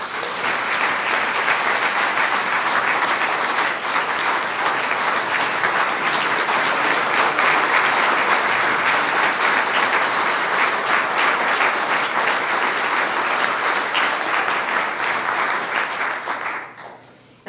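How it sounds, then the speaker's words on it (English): A large audience at the Lapeer, Michigan Citizen of the Year awards gives four standing honorees a long, sustained ovation, dense and even clapping that continues for over fifteen seconds before cutting off abruptly. "let's give them a round of applause and a standing ovation"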